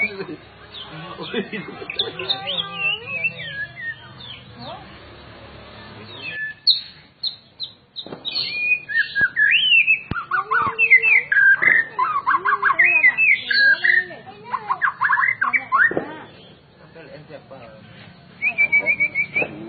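An oriental magpie-robin (murai) sings a long, varied run of clear whistles, chirps and warbling phrases close by, with brief pauses and faint voices in the background.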